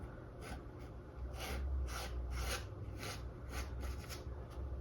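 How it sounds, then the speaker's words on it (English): A paintbrush held nearly flat scrapes across canvas in acrylic painting, making soft, faint rasping strokes repeated in a loose rhythm over steady low background noise. "Gentle little scrape."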